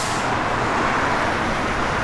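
A 1967 Dodge Dart with a Comp cam rumbles steadily at idle nearby, a dense, even engine drone with no talk over it.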